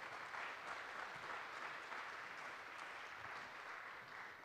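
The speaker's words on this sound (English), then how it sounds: "please give a warm round of applause to Roland van Rijswijk-Deij" A conference audience applauds a speaker at a hacker camp talk, a steady, dense wash of clapping that holds at even strength throughout and tapers slightly at the end.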